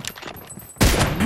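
Burst of gunfire in a shooter video game erupts loudly after a quieter stretch, a dense rattling volley that fills the last half-second.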